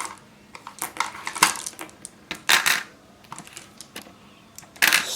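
Small hard plastic beads spill from a storage box, clattering and rattling in scattered bursts, with a few louder spills of clicking pieces close by and no talking.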